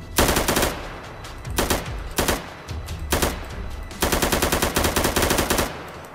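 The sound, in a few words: guns firing in Minecraft weapons mod, video game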